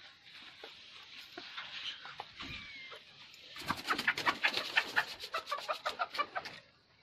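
Native (deshi) chickens perched in a shed give scattered soft clucks and chirps, which grow busier and more rhythmic toward the end, all fairly faint.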